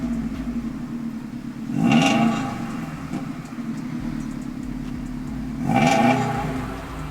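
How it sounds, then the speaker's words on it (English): A Subaru WRX STI CS400 with a larger-diameter downpipe and high-flow catalytic converters rumbles at idle, then revs up twice in two swelling bursts, with no talking. "The exhaust system was also modified with a larger diameter downpipe and high-flow catalytic converters, which also gives this car a glorious exhaust note."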